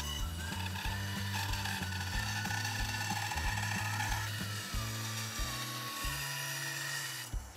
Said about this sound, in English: And now we're going to cut out that line using the bandsaw.